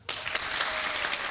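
A small audience at a talk by a tomato breeder gives a short burst of applause, dense and steady clapping from many hands without a clear three-clap rhythm, close and fairly loud.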